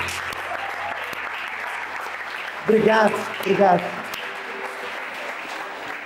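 Applause from a church congregation at an Easter cantata service fills the clip steadily throughout, while a voice speaks briefly over it partway through.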